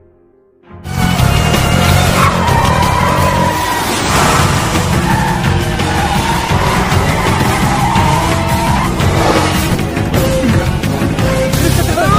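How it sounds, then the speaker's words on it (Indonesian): In a film chase scene, a car speeds and skids, with a loud, sustained tire squeal and engine roar that bursts in after a brief quiet start and holds steady for the rest. "memerintahkan kepada Jimmy untuk mengebut sejadi-jadinya"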